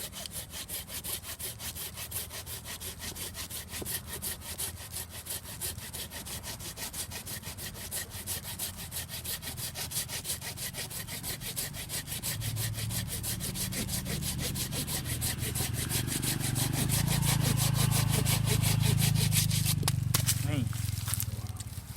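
Rapid, steady hand sawing with a Silky Gomboy 240 through dense rosewood, close and continuous, the strokes growing heavier and lower toward the end.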